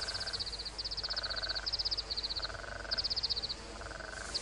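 Frogs croak in a Balinese rice paddy, rapid pulsed trills repeating in regular bursts over a steady chorus and a low background hum, fairly close and moderately loud with no talking.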